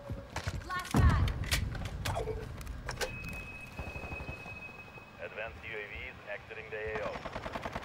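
Rapid automatic gunfire from a VEL 46 submachine gun in Modern Warfare II, crackling in quick bursts with a heavy blast near the start, mixed with game sounds and someone talking over it.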